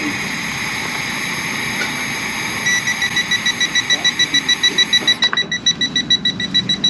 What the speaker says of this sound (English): you can see you get an alarm and the reading